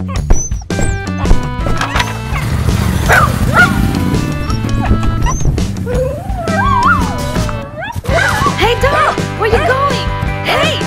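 A dog barks and howls repeatedly over a loud, busy movie soundtrack with music, shouting and chaotic action.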